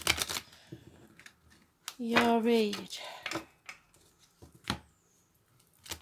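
Quick riffling and soft card snaps from tarot cards being shuffled close by, with a brief voice speaking partway through.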